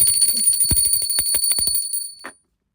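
A small bell rings with a sustained metallic tone while soft taps and clicks sound underneath, then everything cuts to silence.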